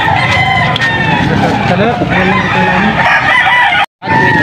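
A rooster crows loudly and repeatedly close by, with clucking chickens around at a cockfighting-bird seller's place, while people talk throughout in the background.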